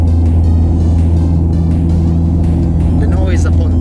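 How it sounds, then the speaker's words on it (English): Deep, steady engine roar fills the cabin of a 50-year-old Soviet airliner taking off from snowy Syktyvkar Airport, loud and unbroken throughout, with a voice briefly over it near the end. "The noise upon takeoff is absolutely crazy, let me tell you that."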